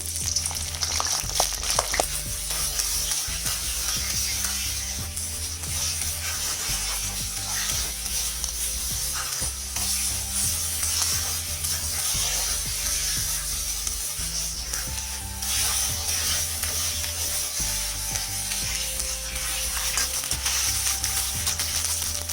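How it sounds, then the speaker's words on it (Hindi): Cauliflower florets frying in hot oil in a pan, a steady loud sizzle and crackle running continuously and close, with no talking. "तो हम 2 बैचेस में गोभी को फ्राई करेंगे।"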